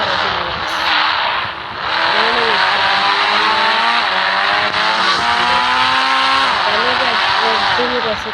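A motorbike in a video game laps a race track, its engine whining loudly and continuously with the pitch climbing and dropping as it shifts and rounds the corners.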